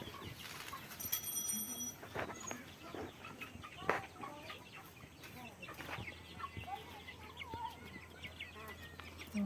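A caged mother hen clucks in short, irregular bursts at close range, with a few higher chirps from her chicks mixed in over steady farmyard background noise.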